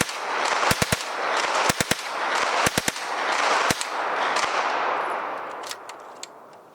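Belgian M2 Vigneron submachine gun firing outdoors, loud sharp shots in short bursts and pairs with echoing decay between them, no talking.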